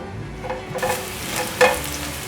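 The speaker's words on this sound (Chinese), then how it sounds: "把香菇炒香" Shiitake mushrooms stir-fried in a little oil, giving a short burst of steady sizzling with a few scraping stirs of a utensil in the pan; no voices.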